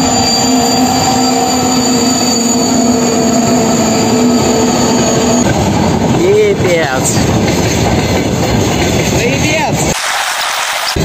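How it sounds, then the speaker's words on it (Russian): A freight train rolling past close by, loud with squealing wheels and rattling clatter continuing throughout, while a person speaks briefly over it. "Вон аж поезд приехал."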